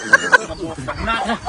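Chickens in a coop give a couple of sharp clucks and squawks near the start, then softer murmuring clucks mixed with nearby voices talking.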